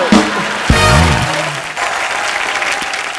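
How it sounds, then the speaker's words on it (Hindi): Studio audience on a Hindi comedy talk show breaks into loud, sustained applause for a married couple, dense clapping filling the whole stretch with a brief whoop near the start. "जोरदार तालियां सुनिधि और हितेश के लिए।"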